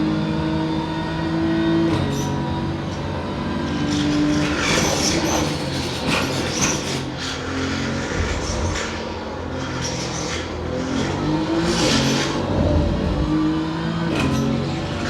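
Race car engine droning steadily through a drifting lap in Assetto Corsa or iRacing, with rising and falling revs and tire noise, continuous and fairly loud with no talking.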